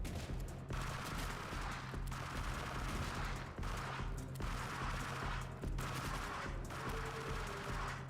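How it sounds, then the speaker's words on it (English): Rockets repeatedly firing and exploding in a retro-style shooter video game, continuous sustained blasts in long bursts separated by brief pauses, over a steady low game hum. "Did the rockets stop finally? Oh, nope, they did not."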